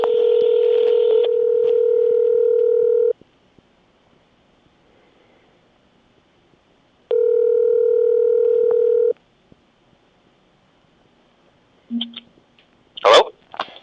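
A telephone line gives two long steady dial-tone bursts separated by silence, followed by a few short, sharp keypad beeps as a number is dialed.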